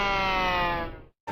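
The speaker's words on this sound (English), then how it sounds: "The siren started to wind down." Fire engine siren in a cartoon scene winds down, a steady, loud wail sliding lower and fading to silence before a brief new sound cuts in.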